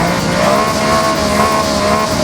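A Honda Beat's mid-engine, naturally aspirated 656cc engine revs loudly and steadily in the Forza Horizon racing game, a close, sustained buzzing drone with a slight rising pitch.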